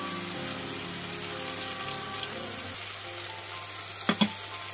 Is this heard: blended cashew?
yes